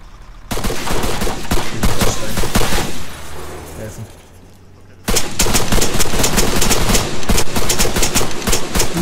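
Gunfire in the video game Arma 3 Altis Life: loud bursts of rapid automatic shots, close and harsh, pausing briefly before resuming in sustained volleys.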